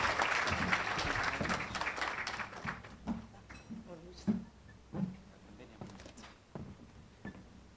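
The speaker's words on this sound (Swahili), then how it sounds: "niombe mjipigie makofi wote." Audience applause at a Swahili live forum event, strongest at the start and then thinning into scattered claps and murmurs while people move and talk at a distance.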